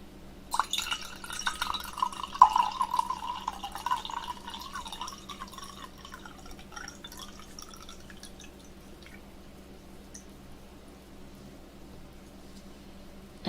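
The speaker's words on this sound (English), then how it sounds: "I'll pour it in front of you guys again. Does it sound nice? I like water pouring ASMR" Water is poured into a glass at close range in a quiet room, a gurgling trickle that rises, then thins and fades over several seconds into near silence.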